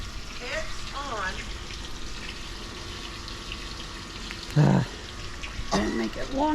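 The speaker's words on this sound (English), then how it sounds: "And now we should have water coming out the waterfall." Water splashes and trickles down a newly built koi pond waterfall in a continuous close wash, with a few short voiced bursts and a brief knock breaking in near the end.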